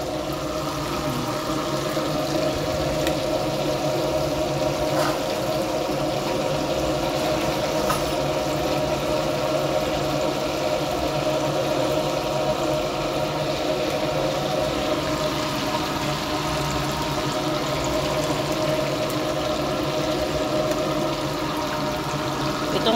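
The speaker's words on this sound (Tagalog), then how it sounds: "pagpasensyahan nyo na at maingay dahil ang aming exhaust ay naka-on dahil sa isda na" A kitchen exhaust fan runs during fish frying, giving off a loud, constant whooshing drone with a steady hum that carries on unchanged throughout, with no voices.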